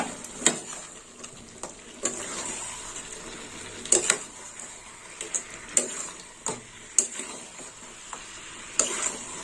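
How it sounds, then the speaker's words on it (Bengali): Sizzling fish heads frying with intermittent scraping taps of a utensil stirring in a pan, close up and moderately quiet. "একটু ভালো করে নেড়ে চেড়ে নেবো"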